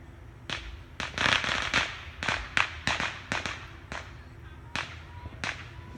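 Fireworks going off outside at night, a scatter of sharp cracks and pops with brief crackling bursts, irregularly spaced and moderately distant, with no talking over them.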